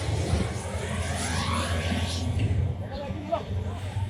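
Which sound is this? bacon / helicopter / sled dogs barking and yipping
helicopter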